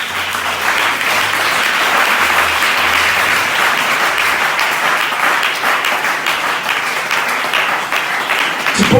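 A church congregation breaks into loud, sustained applause during a sermon, a dense wash of clapping that holds steady for about nine seconds before easing slightly at the end.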